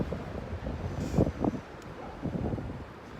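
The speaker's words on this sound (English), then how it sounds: "It's so windy." Steady wind buffets the microphone with low rumbling gusts, rising briefly in the middle, with no voices.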